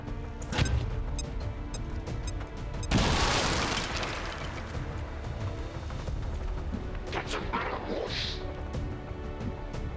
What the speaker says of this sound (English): Yeah, that's a good grenade. Should destroy cover, do damage to the officer.